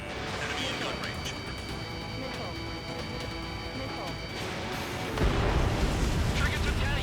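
A drone blowing up in the jet combat game Ace Combat 7, heard as a sustained roaring blast and crash rumble over constant jet engine drone, with radio chatter voices mixed in and a heavier rumble toward the end.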